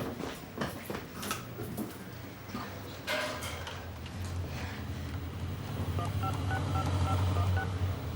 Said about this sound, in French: je dois téléphoner